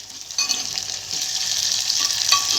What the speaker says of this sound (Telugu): తెల్లగడ్డ వేసిన తక్షణమే వేగిపోయిందండి బాగా